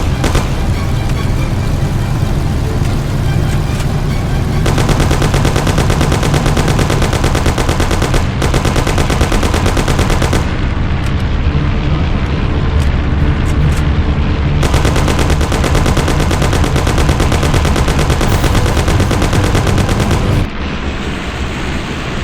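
Sustained automatic and single-shot gunfire from a 1930s-era gangster shootout in the Mafia video game, loud and relentless for over twenty seconds with a car engine rumbling beneath, occasional explosive bursts and brief gaps near the end.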